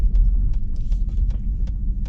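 A Ford Raptor truck drives fast off-road, its engine a steady, deep rumble that stays close and loud, with faint rattles and knocks rising above the drone.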